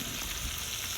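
Butter sizzles in a pan while cooking steak, a brief, faint, continuous hiss with no talk.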